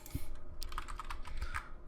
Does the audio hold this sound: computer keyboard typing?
yes